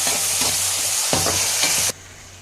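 Tomatoes with salt sizzle steadily in a hot pan while being stirred and mixed for poha, with repeated scraping strokes over continuous frying hiss that cuts off abruptly near the end. No talking.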